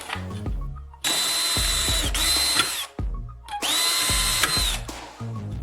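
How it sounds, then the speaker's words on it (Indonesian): A power drill whines loudly in two long bursts, spinning up and drilling steadily through a small metal profile, with short pauses and light handling clatter between. "Ambil bagian kecil profil logam dan bor 2 lubang di dalamnya."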